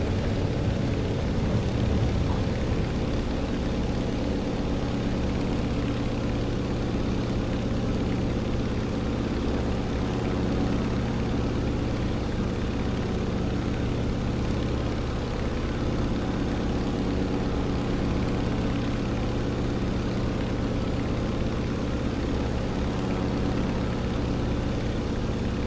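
Antonov AN-2 radial engine roaring steadily during takeoff in Microsoft Flight Simulator 2020, a loud continuous low drone with propeller rumble that settles after a brief change in pitch near the start, with no voices.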